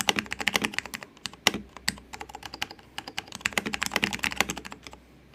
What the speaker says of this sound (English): let's see how Alps keyboards sound